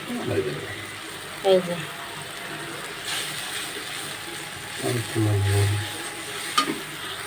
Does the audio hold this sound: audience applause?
no